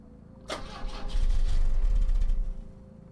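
A car engine in a horror video game cranks with a quick starter whir, then chugs and rumbles heavily for a couple of seconds without catching, before fading out.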